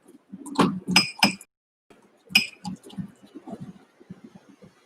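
A spoon clinks and scrapes against a mug while mixing thick red velvet mug cake batter, with a few sharp clinks in quick succession followed by softer stirring scrapes, near and alone.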